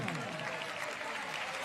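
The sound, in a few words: audience applause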